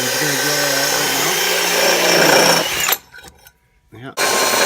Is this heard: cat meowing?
no